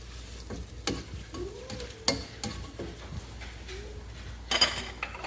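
Blended ginger sizzles gently in a pan while a utensil stirs and scrapes it in irregular strokes, a soft frying hiss under close, distinct knocks and scrapes, no talking.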